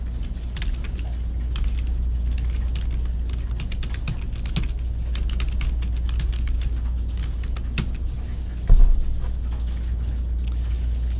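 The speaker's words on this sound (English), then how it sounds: "I'm going to type in quality care for pets and their families" Text typed into a PowerPoint subtitle on a computer keyboard, a long run of light irregular key taps over a constant low hum, with one slightly louder clack near the end.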